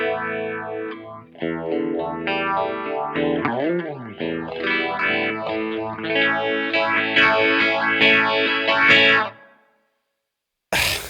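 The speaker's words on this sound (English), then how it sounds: "That's a pretty good sounding phaser too, actually, at least in my opinion." Third Man Triple Threat pedal's phaser effect on a guitar, a sweeping, swirling tone over chords played for about nine seconds, loud and upfront, ending in silence.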